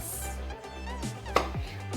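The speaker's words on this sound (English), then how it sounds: "So all I have to do now is chop it in a regular size. Chopping begins." Peeled tomatoes are chopped on a board for homemade tomato sauce. A few soft knife strikes land alone over a steady background hum, with one sharper chop in the middle.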